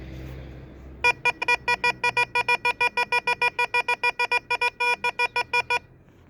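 A rapid series of sharp electronic beeps from a Tesoro metal detector, about thirty evenly spaced pulses, loud and close, starting suddenly after a moment of low background noise.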